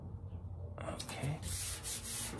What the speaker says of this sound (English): Now when I'm sanding, I have a guide.